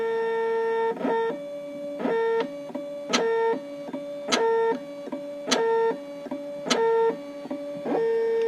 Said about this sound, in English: it is now going to start cutting the second side of the key